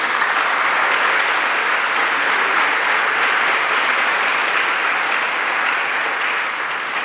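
An audience at a fiction prize ceremony claps loudly and continuously, a dense, even wash of applause from a large crowd that holds steady throughout and tapers only slightly at the very end.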